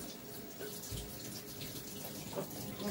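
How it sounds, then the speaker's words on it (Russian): Barely warm water runs from a kitchen tap while cheese flatbread is being made, a steady hiss of flowing water at moderate distance, with nothing else audible. "вода, еле-еле теплая идет."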